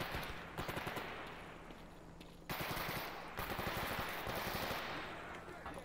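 Rapid automatic gunfire from the STALKER video game, dense bursts of shots with a short pause in the middle, loud and close throughout.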